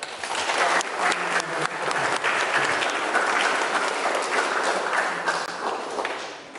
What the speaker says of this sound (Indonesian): Kita tepuk tangan Pak Wes atas.